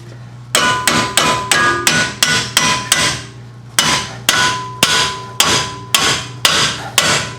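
A hammer drives a ball joint separator fork on a 2011 Kia Sorento: about fourteen sharp, ringing metallic blows, close and loud, at a steady, slightly uneven rhythm with a brief pause midway.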